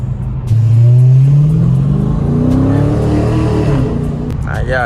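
Close and loud, a Dodge Scat Pack with a freshly installed aftermarket exhaust blips its throttle and climbs through a sustained roaring rev, settling back to a steady rumble at the end.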